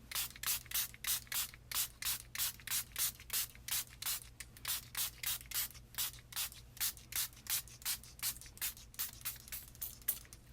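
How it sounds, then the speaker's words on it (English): A spray bottle mists hybrid ink over a stencil in quick rhythmic bursts, about two dozen sharp hissing pumps in an even, close, loud series with no talking. "So we'll spray this over the top."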